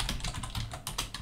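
Rapid keystrokes on a computer keyboard while configuring the Sway window manager on Arch Linux, a quick cluster of close, crisp clicks over about a second.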